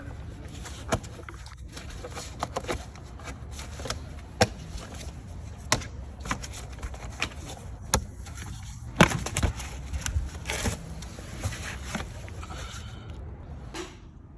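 The plastic engine cover clips on a 2015 Mercedes-Benz GL 350 are pried loose, giving a series of sharp, close clicks and snaps spread irregularly across a quiet background. No one speaks.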